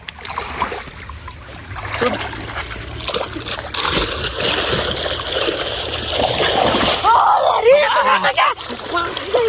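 A bicycle is dunked and sloshed in water, with splashing and trickling that grows busier toward the end, while a person talks over it throughout.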